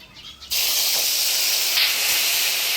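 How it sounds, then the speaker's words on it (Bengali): Dried red chillies, bay leaf and whole cumin hit hot oil for tempering, bursting into a loud, steady, close sizzling hiss that holds unbroken after the initial drop. "ফোড়নে দিয়ে দিচ্ছি শুকনো লঙ্কা, তেজপাতা, গোটা জিরা।"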